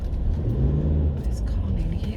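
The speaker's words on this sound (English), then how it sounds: "This car nearly hit me." A car passes close by a pedestrian on a street, a brief low rumble that swells and fades over a couple of seconds, with faint voices in the background.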